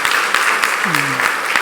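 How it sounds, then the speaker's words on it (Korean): A church congregation clapping together for members' birthdays, with brisk, fairly even rhythmic claps and a voice briefly sounding over them. "우리 박수 한번 칠까요 생일?"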